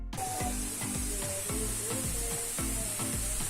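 Onions with ginger and garlic frying in hot oil in a pan, a steady loud sizzle and hiss with rhythmic scraping strokes repeating about twice a second.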